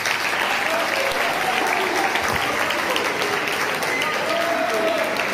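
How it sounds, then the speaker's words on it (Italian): Students applaud themselves at a school awards event, sustained dense clapping from a large group that holds steady the whole time, with a few voices faintly beneath. "fatevi da soli un applauso"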